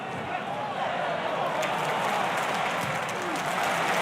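Crowd applause at a Watford versus Middlesbrough Championship football match, a steady wash of clapping and stadium noise beneath a commentator's voice.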